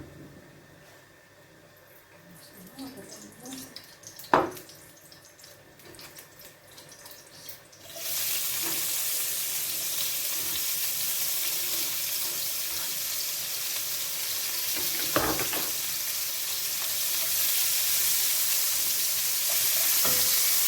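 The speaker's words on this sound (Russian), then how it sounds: "Обжарим лук и болгарский перец" Onion and bell pepper go into a frying pan that was just used for another dish. Quiet kitchen clatter comes first, then a loud, steady sizzle suddenly takes over and continues to the end.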